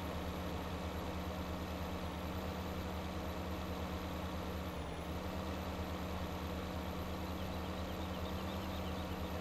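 A tractor engine idles in Farming Simulator 17 with a constant low droning rumble and steady hum, unbroken and even at moderate level, with no talking.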